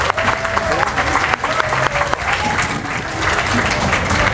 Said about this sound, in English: We ask you a round of applause.